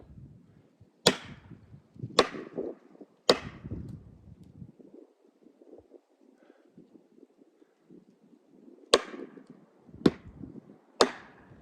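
An axe bites into a tree trunk, cutting a kerf during tree felling, with six sharp, loud chops in two groups of three and wind rustling between strikes.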